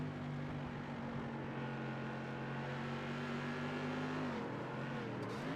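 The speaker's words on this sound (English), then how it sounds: "He lifted out of the throttle coming out of the corner" Race car engine holds a steady, droning high-revving tone on a corner exit, then the pitch suddenly drops as the driver lifts off the throttle, close and loud with no talking.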